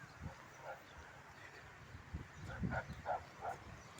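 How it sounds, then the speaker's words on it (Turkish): Dogs barking at a distance, a few short yaps spread out over a quiet outdoor background with faint wind. "Köpekler havlıyor gene bak bak."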